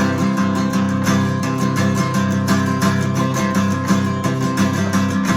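Close acoustic guitar moving from the fifth to the sixth string, playing low bass notes and strums, slightly uneven and messy in timing, ringing steadily throughout.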